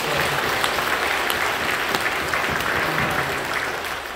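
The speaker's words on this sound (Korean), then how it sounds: "박수로 격려해 주십시오." A church congregation claps steadily during a worship service, a dense, even wash of applause lasting the whole stretch without voices.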